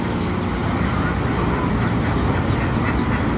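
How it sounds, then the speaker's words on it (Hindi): Ducks at a home menagerie quack in a busy, loud, continuous chorus, close by, with a voice speaking over the noise. "बच्चे बुच्चे निकलवाए हैं बतखों के"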